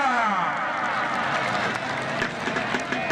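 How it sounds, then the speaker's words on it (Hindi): A crowd at a kabaddi match at a village fair claps loudly and continuously, dense applause filling the whole stretch with steady energy and scattered voices mixed in. "जोरदार ताली है।"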